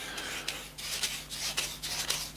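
Sandpaper rubs across an acrylic snooker cue badge in short, regular back-and-forth strokes, a close scratchy rasp repeating about twice a second.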